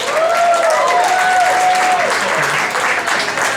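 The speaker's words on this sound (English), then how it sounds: "So give yourselves a round of applause for selling this show out." A sold-out crowd of about a hundred at a San Francisco comedy fundraiser applauds loudly and continuously, with whoops and cheers rising over the clapping early on.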